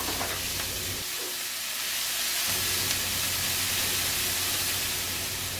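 Celery, scallions and minced garlic sauté in a pot, giving a steady, fairly loud hiss of sizzling that barely changes from start to end.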